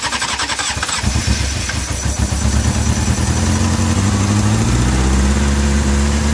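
A Honda CBR600F motorcycle cranks briefly, then the engine catches and settles into a loud, steady, close-up idle that rises slightly in pitch.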